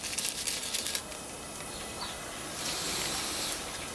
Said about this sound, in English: And we're going to boil this for 15 minutes.